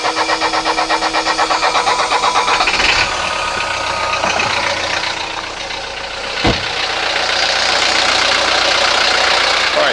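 A 1983 Mercedes 240D diesel with a faulty glow plug relay cranks after its block heater has warmed it. It fires up and settles into a loud, steady clattering idle, with a sharp knock partway through.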